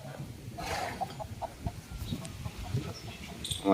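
Chickens and roosters cluck close by in short, uneven bursts over a busy, murmuring background.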